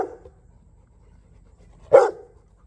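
A single short dog bark rings out close by after a quiet pause, preceded by a faint brief yelp or whine at the start.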